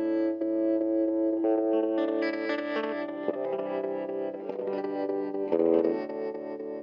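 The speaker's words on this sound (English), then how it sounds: "I would say I like the echo setting" Les Paul-style electric guitar played through the echo setting of a 1970s Kay/Univox built-in effector, sustained chords and notes with repeating echoed tails and a slightly distorted edge, steady and close, no talk.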